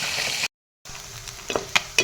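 Small fish fried together in a batch in hot oil, giving a dense crackling sizzle that cuts out briefly, then returns softer with a few sharp utensil clicks.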